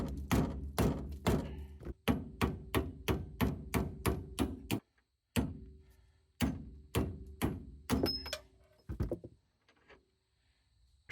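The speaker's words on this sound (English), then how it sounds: "I might be able to just hammer the nut out" Repeated sharp metallic hammer blows strike a nut on a car's suspension, ringing out in quick rhythmic bursts, pausing briefly between series, loud and close.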